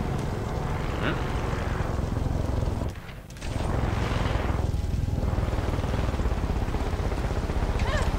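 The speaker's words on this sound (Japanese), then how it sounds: "ヘリが来てますね" A helicopter in the game Far Cry 6 approaches with a steady, loud rotor roar that briefly dips partway through, then swells again amid other in-game noise.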